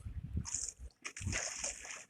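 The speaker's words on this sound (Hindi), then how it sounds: "अरे मैं पानी में गिर चुका हूँ।" Player character falling into water in the Minecraft video game, a splash followed by sloshing and trickling water, fairly close and moderately loud, with a brief pause before a second burst of splashing.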